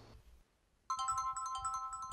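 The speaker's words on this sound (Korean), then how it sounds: "평범한 나날을 보냈던 윤미 씨에게 충격적인 전화 한 통이 걸려옵니다" An electronic phone ringtone for an incoming call starts abruptly after a near-silent pause, playing a bright repeating melodic pattern, clear and close, with no talk.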